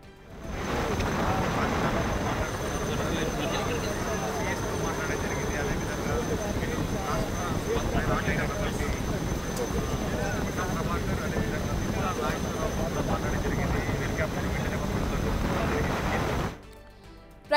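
Army helicopters hover during a flood rescue of farmers stranded in a swollen stream in Rajanna Sircilla, giving a continuous loud rotor and engine roar for about sixteen seconds before it cuts off.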